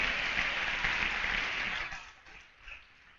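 A crowd claps together for a couple of seconds, then the applause thins and fades out.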